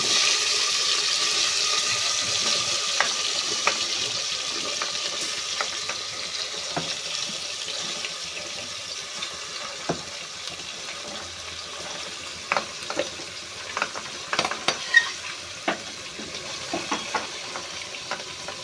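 Tomatoes and vegetables for undhiyu are tipped into a hot frying pan and stirred. A steady hiss of frying runs throughout, with scattered clicks and knocks of the spoon that grow louder toward the end.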